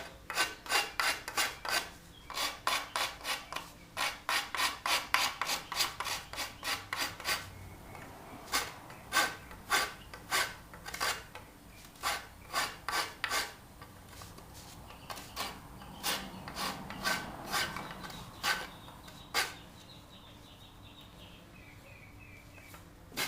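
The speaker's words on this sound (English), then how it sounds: "I just rasp until all the burns go away" A wood rasp files bandsaw burns off a wooden bow in quick bursts of rough rasping strokes, loud and close, dense at first, then sparser with short pauses, and no voices.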